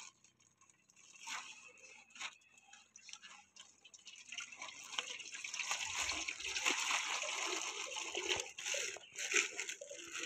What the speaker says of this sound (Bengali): আমরা প্রথমে এটাতে ঢেলে নিচ্ছি মাছগুলো।